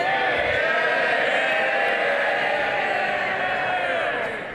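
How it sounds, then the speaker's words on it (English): MPs in the House of Commons give a loud, sustained cheer for a former minister, a dense roar of many voices that holds steady and fades at the end. "You will see from the loud cheer just how popular the former minister was."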